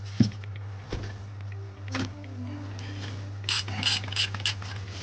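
A 13 mm wrench ratchets a belt tensioner bolt on a sailboat engine, giving close metallic clicks, a few spaced at first and then a quicker burst of ratcheting near the end, over a steady low hum.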